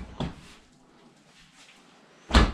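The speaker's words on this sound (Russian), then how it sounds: "Ну и тут такие же выдвижные ящики." Kitchen drawers slide open and shut, with a sharp thump at the start, a quiet glide in between, and a louder solid close at the end, heard nearby in a quiet room.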